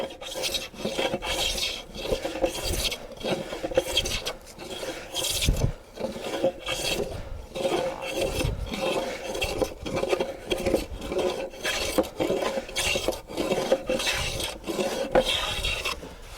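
Steady, rhythmic rasping strokes of a hand plane shaving a wooden workbench top, at times against the grain, close and continuous, with brief pauses between passes.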